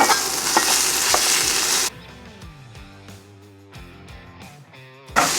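Ground beef for mini Big Mac sliders sizzles loudly in a pan, then the hiss drops away to quieter scraping and tapping as a utensil breaks up the meat, and the loud frying returns at the very end.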